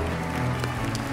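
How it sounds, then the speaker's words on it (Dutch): Audience applause at a Sinterklaas stage show, the Mega Sint Show 2019, for the dancing Piets: a dense, steady wash of clapping from a crowd, fairly loud and sustained throughout. "Applaus voor onze danspieten"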